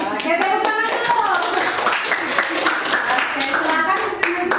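A classroom of students clapping their hands together, a dense, steady burst of applause lasting several seconds, with children's voices and shouting mixed in underneath.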